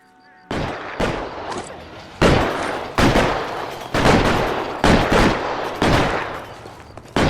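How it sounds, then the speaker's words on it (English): Loud gunshots ring out in L.A. Noire, a series of heavy, close reports spaced roughly a second apart, each with a booming echoing tail, after a quiet opening. "They're shooting at us!"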